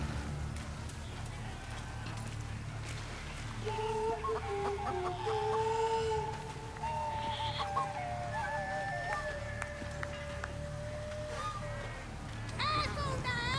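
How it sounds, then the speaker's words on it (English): A chicken clucks and squawks in a fantasy role-playing game, a run of sharp, rising calls over a rumbling background while voices talk alongside. "That's a nice chicken! Chase that chicken!"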